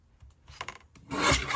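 Paper being trimmed to size for a pocket in an 8x8 trifold project, a close rasping slide of a blade through the sheet that builds to a louder, steady cut near the end.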